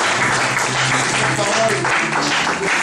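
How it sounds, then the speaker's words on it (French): A church congregation applauding steadily throughout, dense and continuous, with voices and sung or spoken tones running underneath the clapping. "Acclamons tous le Seigneur."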